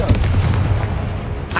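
The Confringo fire spell fires in Hogwarts Legacy, a loud booming blast with a rumbling tail, and a sharp burst follows at the end.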